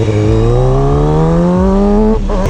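Kawasaki 636 sport bike engine revving loudly and close, pitch rising steadily under acceleration before a sudden drop as the throttle closes.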